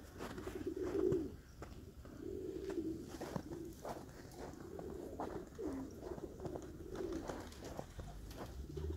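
Marbled doves and pigeons coo in soft, low, repeated phrases through the whole stretch, close by, with rustling and wing or foot noises in between.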